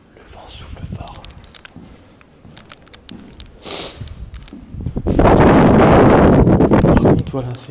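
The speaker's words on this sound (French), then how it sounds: "Le vent souffle fort." Strong wind blowing around an abandoned château at night, rumbling and buffeting the microphone, rising into a loud sustained roar in the second half, with soft whispered talk earlier.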